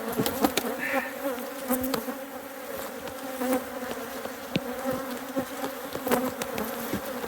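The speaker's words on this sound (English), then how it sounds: "Just knock the bees out of it." Honey bees buzz loudly and continuously close by while a hive is opened for honey harvesting, a dense droning hum with sharp knocks and handling clatter scattered throughout.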